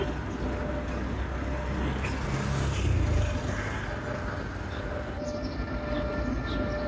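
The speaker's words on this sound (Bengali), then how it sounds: "এখন এই ট্রলারটা ঢুকতেছে।" A trawler boat passes beneath an opened sluice gate in a village waterway, its engine a steady low rumble that swells slightly midway and holds throughout, with no talking.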